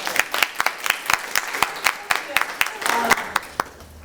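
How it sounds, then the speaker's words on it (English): An audience at a panel event on women's political power applauds, giving a brisk run of sharp, fairly close claps from a modest crowd that thins toward the end. "Can we clap for that?"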